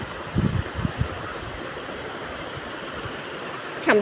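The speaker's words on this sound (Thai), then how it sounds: "ดูน้ำตก" Steady broadband rush of falling water fills the whole clip, a constant hiss and roar with a few low thumps early on.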